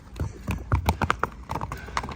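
A racehorse walking in Dubai, its hooves clip-clopping in an uneven rhythm of distinct close hoof strikes on hard ground, with a faint voice in the background.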